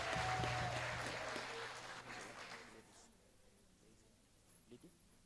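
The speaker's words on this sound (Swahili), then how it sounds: "Makofi mazuri." A church congregation at a cultural Sunday service claps loudly at first, then the applause fades away over a few seconds into quiet room noise with a few stray claps.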